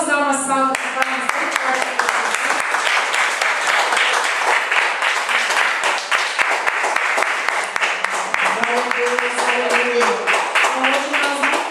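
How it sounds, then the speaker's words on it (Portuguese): Applause fills a Pentecostal church service, dense continuous clapping from a congregation throughout, with singing and voices carrying over it. "Vamos dar uma salva de palmas."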